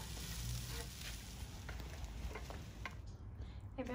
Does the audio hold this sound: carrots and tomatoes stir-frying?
yes